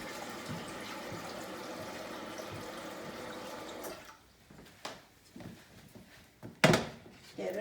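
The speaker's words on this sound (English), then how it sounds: "So I'm going to put my water in my pan here." Water poured into a cooking pan in a home kitchen for mac and cheese, a steady splashing stream for several seconds, followed by quieter clunks and a sharp knock of the pan.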